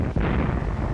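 A single heavy WWII artillery gun fires with a sharp boom, followed by a dense, rumbling roar of explosions that fills the whole second.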